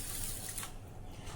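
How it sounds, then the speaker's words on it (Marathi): Basmati rice being washed in water in a home kitchen, with faint splashing, trickling and dripping, quiet and close, no voices. "आता आपण हे धुवून घेऊया."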